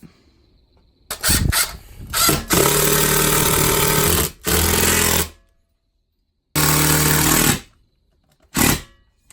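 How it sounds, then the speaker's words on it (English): A power drill drives large deck screws into center supports for a Samsung TV mount, loud and close, in several sustained whirring bursts separated by short pauses. "I'm gonna go ahead and put some big boy deck screws through these to kind of hold them in"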